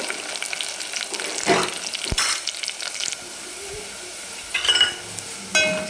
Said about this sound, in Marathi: कांदा आता आपला परतनं चालू आहे